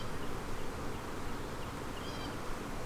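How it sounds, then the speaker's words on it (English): Honeybees hum in a dense, steady drone at an opened hive during spring work, with smoke in use and the colony turning defensive, loud and close with no pauses. "These bees are getting nasty already."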